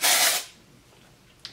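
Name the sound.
dry shampoo being sprayed into hair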